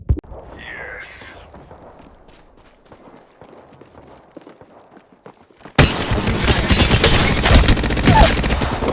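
Gunfire from the Apex Legends video game, with rapid automatic bursts filling the last few seconds loud and dense, preceded by quieter game ambience with faint clicks and a brief whispery effect.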